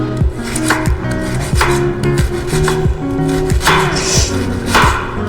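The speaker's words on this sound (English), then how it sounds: "Just gonna chop these up into nice little tiny little squares." A sweet onion being chopped into small squares, a quick run of firm knife strikes on a cutting board, close and loud with a steady rhythm.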